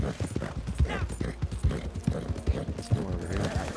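Horse hooves clip-clop in a steady, rhythmic gait in the Red Dead video game, fairly loud and near, with a whinny in places and music or ambience underneath.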